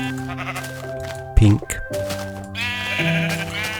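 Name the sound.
sheep bleating in the video game Minecraft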